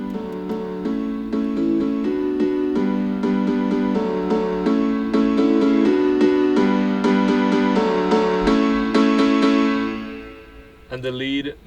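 A drop piano in an electronic track plays rhythmic chords, loud and sustained, before fading near the end.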